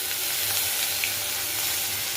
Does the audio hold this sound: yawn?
no